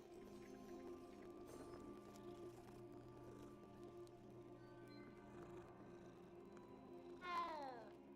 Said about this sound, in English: Best thing about this game is that you can pet cats.